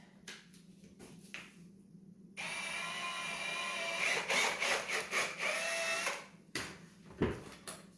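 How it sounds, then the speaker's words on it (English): A power drill with a paddle mixer whirs up and runs steadily for several seconds, churning thick concrete resurfacer, preceded and followed by knocks and scraping nearby. "Take your drill with your mixer on it."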